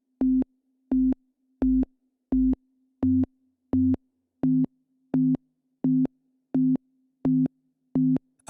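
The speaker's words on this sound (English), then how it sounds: "that's always going to be a sine wave because it's a sub-oscillator" A modular synth sub-oscillator puts out a pure low sine tone alongside another oscillator, pulsing in even on-off bursts about twice per second, about a dozen in all. The beeps are clean and loud with silence between them.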